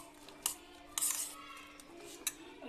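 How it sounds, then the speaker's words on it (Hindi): Chopped onion, tomatoes and bell peppers mixed in a bowl with a spoon, sparse light clinks and scrapes of metal against the dish at scattered moments, fairly quiet and close. "टमाटर, शिमला मिर्च, इन सबको कर लीजिए अच्छे से मिक्स।"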